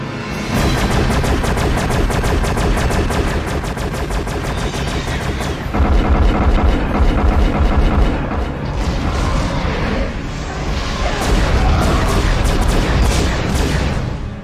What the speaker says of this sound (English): Heracles is opening fire. Other ships moving to support.